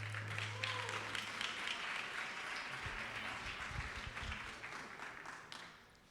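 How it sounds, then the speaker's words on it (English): A conference audience at SOCAP16 gives a speaker a warm round of applause: dense, steady clapping from a crowd in a hall, heard from a moderate distance and tapering off toward the end. "Give him a warm round of applause."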